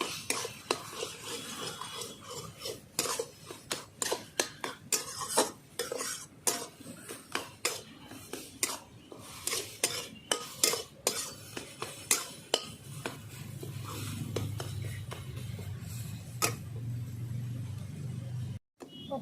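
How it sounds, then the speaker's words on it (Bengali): Prawns are stirred into taro greens (kochu shak) in a metal pan, with a rapid run of sharp spatula scrapes and clanks against the pan over a faint sizzle, close and loud, slowing later as a low hum rises. "চিংড়ি মাছটাও একই সঙ্গে দিয়ে দিচ্ছি ভালো করে মিশিয়ে নেব এইভাবে"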